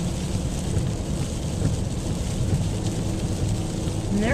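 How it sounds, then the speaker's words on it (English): Heavy rain pours down in Oklahoma, a dense, steady roar of water that fills the whole clip evenly at close range, with a low rumble underneath that may be thunder. "I wish we could give them some of this rain"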